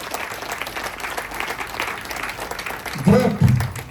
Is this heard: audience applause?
yes